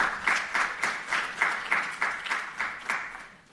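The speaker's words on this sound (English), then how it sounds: "Please give them a round of applause." Audience applause at a university innovation event, a steady wash of many hands clapping with rhythmic surges, fairly close and moderately loud, tapering off at the end with no voices.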